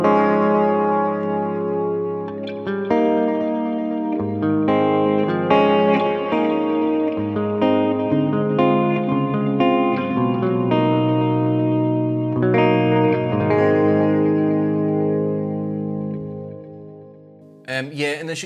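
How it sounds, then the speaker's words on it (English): Electric guitar through a Fractal Audio FM9 amp model based on a Fender Super Reverb, playing slow, sustained chords with lush reverb and echoing repeats, a spacious ambient wash that fades out near the end. "I've called it Ambience. It is based on a Fender Super Reverb."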